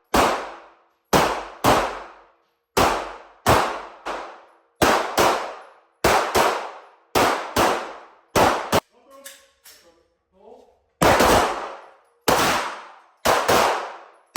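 Loud, close gunshots ring out in quick pairs and short bursts during tactical shooting training on the move, each crack sharp and echoing, with a brief quiet stretch of faint movement and low voices in the middle.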